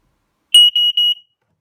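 A home smoke alarm sounds during a test, giving three loud, shrill electronic beeps in quick succession with short gaps between them and then falling silent.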